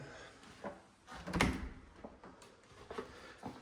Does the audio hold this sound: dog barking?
no